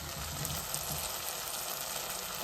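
Ginger fries in oil in a pan as coriander powder goes in, giving a continuous, even sizzling hiss up close without a break.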